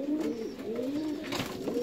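Indian fantail pigeons coo in low, rolling, repeated calls, close and fairly loud, with a brief brighter flutter-like sound near the end and no voices present.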